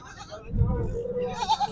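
A goat, probably a castrated young male, bleats at a rain-hit livestock market, one short mid-pitched call standing out above a busy murmur of voices and market noise.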